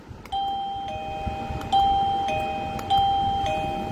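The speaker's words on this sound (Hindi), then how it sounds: "चला के चेक करेंगे डोर बेल।" A newly installed two-piece doorbell is tested, ringing out three clear, loud ding-dong chimes close by, each pair of tones ringing and fading before the next press.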